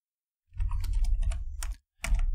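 Quick clatter of keys on a computer keyboard, a close run of rapid clicks lasting about a second, a short pause, then a few more keystrokes.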